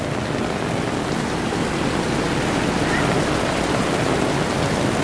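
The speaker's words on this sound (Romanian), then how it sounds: "Plouă puțin." Steady rain falls in Da Nang, Vietnam, near a shelter under an awning, a dense continuous hiss that stays loud and even throughout with no gaps.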